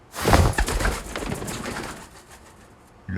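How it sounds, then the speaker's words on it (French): A pigeon coos in a short burst with some soft fluttering, fairly close and loud at first, then fading to quiet background. "ça c'est un pigeon."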